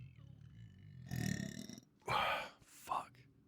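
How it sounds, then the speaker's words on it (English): A long, loud burp rolls out close up, rising in bursts before trailing off, with a voice around it. "That was kind of a cool burp."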